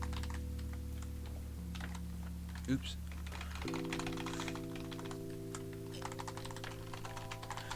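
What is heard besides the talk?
typing on a computer keyboard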